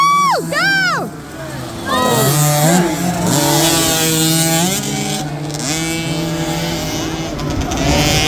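Kids' PeeWee dirt bikes race on a dirt track, several small engines whining and revving up and down in overlapping sweeps, loud and close, with spectators cheering and talking over the engines.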